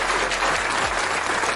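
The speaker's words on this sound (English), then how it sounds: "Let's give Super Dave a round of applause." Brief applause from a studio audience for Super Dave on a 49ers talk show, a soft even patter of many hands with a couple of low thumps underneath.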